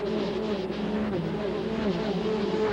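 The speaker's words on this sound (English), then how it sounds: "Boy, you can just hear how fast those cars are coming as they come off of the turn, Jerry." NASCAR Busch Grand National Series race cars from the 1990 Jay Johnson 250, including an Oldsmobile and a Pontiac, come off the turn with a steady, droning engine roar and rising and falling pitch as they pass. The sound is continuous and fairly loud.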